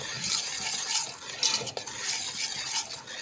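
Mango jam stirred slowly in a pot as it boils, a soft continuous scraping and bubbling hiss with a brief clink midway, steady and close, no voices.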